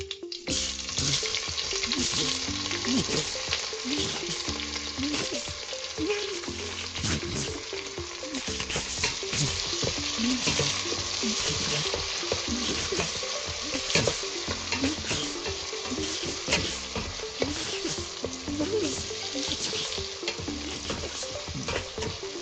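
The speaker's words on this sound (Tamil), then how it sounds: "இப்போ இந்த வெங்காயம் அரைவாசிக்கு வதங்கி கொண்டு இருக்குது" Onions sautéing in a pan for tomato rice, with a continuous loud sizzle and rhythmic stirring scrapes repeating throughout.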